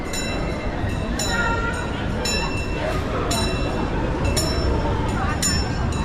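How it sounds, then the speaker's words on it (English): A train pulls into a themed station at Europa Park, a rumbling rolling noise with repeated sharp metallic rattles and squeals, while people talk nearby over it. "Sounds like there might be a train on its way."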